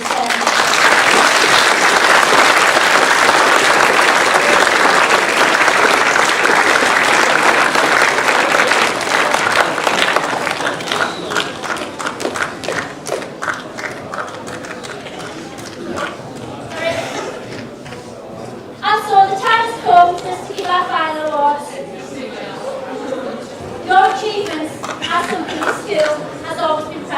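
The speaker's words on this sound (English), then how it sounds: "I would like for you to give yourselves a massive round of applause in return." A school assembly crowd of Year 11 students applauds themselves, a dense, loud sustained clapping that fades after about ten seconds into scattered claps as a voice begins talking.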